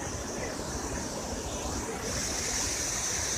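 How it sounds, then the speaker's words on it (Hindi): Fast-flowing Uhal river at Barot rushing past, a dense, steady roar of churning water, loud and continuous with no voices. "तीव्र रफ्तार से यहाँ पानी कल कल करता हुआ आगे बढ़ रहा है।"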